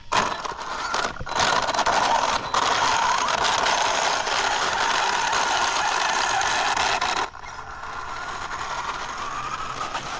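A Traxxas UDR RC truck drives under throttle, its drivetrain giving off a loud, steady mechanical grinding and ratcheting that holds for about seven seconds, then drops to a quieter rolling rattle.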